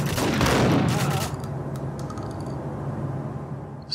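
Gunfire in Max Payne, a short burst of loud impulsive shots at the start, then quieter scattered clicks and background noise through the rest.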